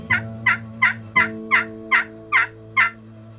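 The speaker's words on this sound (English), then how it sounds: "Yelping, you're coming across and down for that high and low note." Turkey yelps made on a wooden pot call with a peg, a series of eight clear, evenly spaced two-note yelps, loud and close, with no talk.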